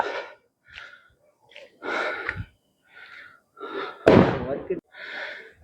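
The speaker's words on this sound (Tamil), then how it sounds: "ரொம்ப மூச்சு வாங்குதுங்க" Heavy, ragged breathing in repeated bursts of huffs and gasps from someone climbing the hill to the Tiruttani Subramanya Swamy temple, loud and close to the mic.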